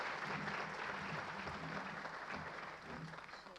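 A crowd at the 2024 ATHENA Awards applauds steadily, a soft, distant wash of many clapping hands that stays even for a few seconds before easing slightly.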